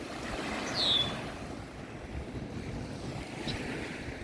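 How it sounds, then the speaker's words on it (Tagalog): Strong waves churning on Liverpool Lake at Pickering, a steady broadband wash of water and surf with wind rumbling on the microphone throughout, fairly close and continuous with no talk. "Ang lakas ng alon."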